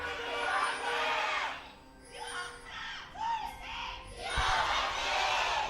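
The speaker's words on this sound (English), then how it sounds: "audience there cheering them on with everything that they can possibly muster into their voices" At an LCK League of Legends esports match between MVP and SK Telecom T1, a large arena crowd cheers and chants in loud surging waves, dipping briefly and then swelling again.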